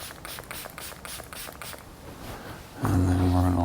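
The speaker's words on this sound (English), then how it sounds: "I'm going to spray away from my car." Glass sealant misted from a trigger spray bottle, a run of quick, close pumping hisses and clicks, followed by a louder humming burst near the end.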